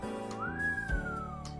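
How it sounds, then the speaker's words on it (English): A single rising-then-falling whistle of about a second from a character in the visual novel game Asagao Academy, clear and close over soft background music. "Mai whistled behind me."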